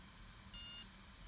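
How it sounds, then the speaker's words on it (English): A DJI Spark drone controller gives a single short, high electronic beep at moderate level over a faint steady background hum. "wait for 2 beeps"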